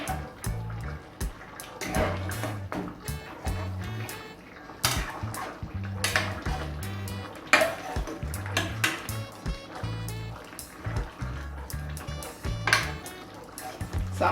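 A pot of Jamaican brown stewed oxtail being stirred, metal spoon scraping and clinking against the pot in an irregular rhythm with wet, thick splashing, close and moderately loud.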